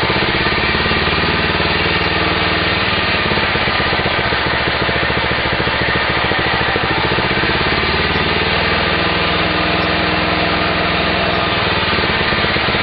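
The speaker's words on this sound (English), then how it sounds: "listen to this idle, is take the hydrogen gas and inject it into the carburetor." An engine idles loudly and continuously with hydrogen gas being injected into its carburetor, a steady close rumble with faint rhythmic pulsing and no talk.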